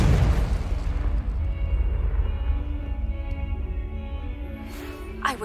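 A Confringo blasting spell detonating in a video game, a loud booming explosion that rolls into a long rumbling decay, ending in a brief sharp pop.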